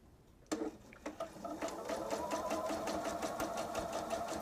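Sewing machine stitching layered fabric for a two-bottle wine tote, starting after a short quiet moment and then running steadily with a rapid mechanical patter of stitches, close and fairly loud.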